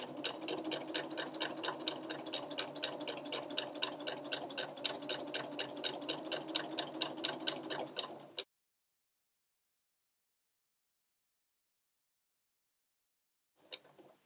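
A sewing machine back-stitches fabric for a reversible bib, a fast even run of close mechanical stitching for about eight seconds, then silence and a brief restart at the end.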